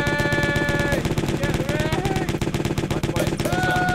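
Rapid automatic gunfire from the video game JazzPunk rattles continuously for a few seconds, loud and dense, with electronic game tones running over the shots.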